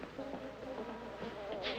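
Honeybees buzzing close by in a steady, continuous hum with faint wingbeat drone, no voices over it.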